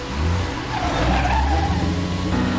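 A car speeds away with loud, sustained engine roar and tire noise, broadband and steady throughout, close by with no pauses.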